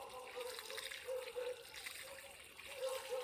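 Water poured in a circle around a newly planted jackfruit sapling on a Costa Rica agroforestry plot, a faint soft trickle and gurgle running continuously with a few brief tonal sounds, quiet and close.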